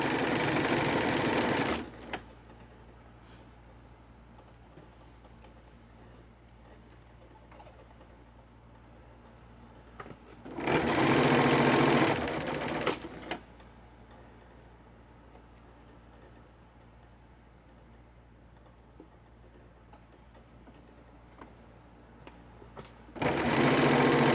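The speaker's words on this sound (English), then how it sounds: "I'm going to run the serger over this seam" Serger sewing machine stitching over a dress seam: three short, loud bursts of rapid mechanical whirring separated by long quiet gaps with faint room hum.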